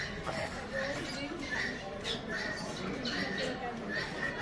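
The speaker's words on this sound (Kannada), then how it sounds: "ಗುಲಾಬಿ ಕೊರಳಿನ ಗಿಳಿ." A rose-ringed parakeet at Bannerghatta zoo gives short, sharp squawks that repeat at intervals, faint and mixed with ambient noise and talk from nearby visitors.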